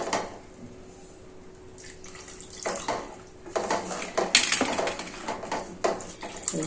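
Water splashes in short bursts into a pan of stuffed eggplant curry frying in oil, sloshing and hissing, getting louder toward the end against a quiet kitchen background.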